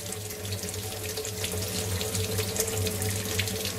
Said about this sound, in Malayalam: അതിൻ്റെ അടിയിൽ വെള്ളം ഒഴിച്ചു കൊടുക്കാം